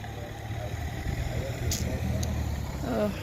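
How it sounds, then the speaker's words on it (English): A low, steady rumble of road traffic and engines hums in the background while a person talks nearby, with faint passing vehicle sounds. "there's a lot of noise. I'm on the road."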